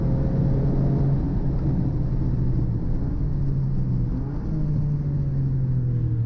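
A race car lapping Donington Park circuit at speed on a track day, its engine a steady loud droning roar with slight pitch rises and dips as it shifts and accelerates, heard from inside the car with no talk.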